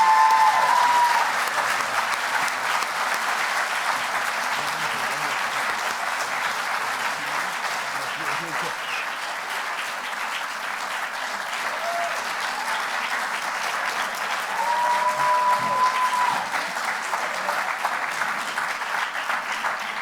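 Sustained audience applause fills a room at an exoneree awareness event, a steady dense wash of clapping that holds for the full stretch with a few faint whistles or cheers rising above it.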